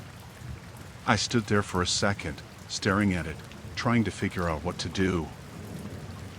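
Steady rain falls beneath a nearby voice narrating a story, with a soft continuous wash and no distinct thunder claps standing out.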